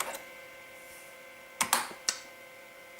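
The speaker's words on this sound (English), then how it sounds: "you can type text the old way" Typing on the keyboard of a 1989 Victor v86p PC/XT compatible computer, a few sharp distinct key clicks close up in an otherwise quiet room, over a faint steady electronic hum.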